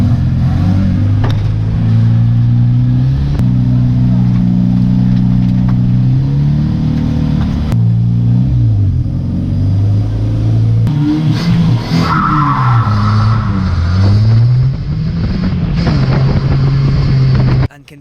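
A race car engine roars close by on a damp circuit at Cowdenbeath, revving up and down through gear changes as it accelerates, loud and continuous with a brief cutoff at the end.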